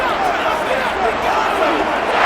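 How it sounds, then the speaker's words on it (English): Stadium crowd in Madden NFL 23 during a Chicago Bears versus Detroit Lions game, a dense continuous roar of shouting and cheering with a commentator's voice running over it. "Plenty of shouts from this crowd as they watch the replay"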